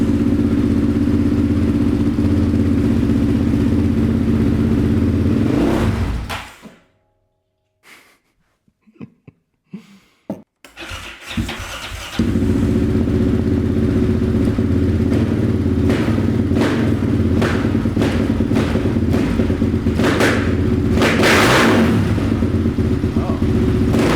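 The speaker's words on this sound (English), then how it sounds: "Well, it's revving now." A Yamaha Raptor ATV engine with the choke on runs loud and close, cuts out into near silence with a few clunks, then starts again and revs with a rough, stumbling idle and sharp throttle bursts.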